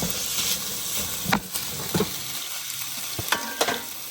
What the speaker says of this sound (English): While I'm waiting for my sausage and chorizo to finish browning